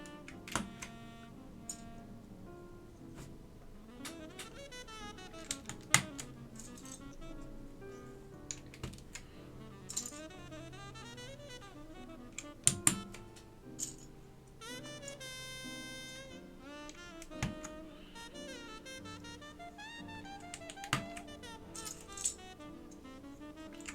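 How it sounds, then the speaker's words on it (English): Keycaps are pressed back onto a vintage Alps keyboard, giving scattered plastic clicks and taps at an irregular pace, some sharper snaps standing out over faint background music. "So we're just putting these keycaps back on."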